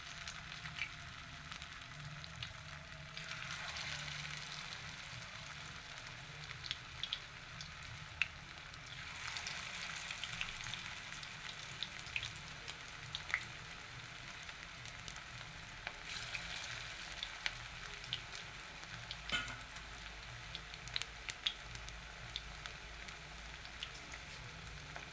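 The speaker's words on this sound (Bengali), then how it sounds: "কড়ার মধ্যে আমি ভাজার জন্য ব্যবহার করেছি সর্ষের তেল।" Cabbage pakoras sizzle steadily in hot mustard oil in a kadai, a continuous close crackling fry with no talking over it.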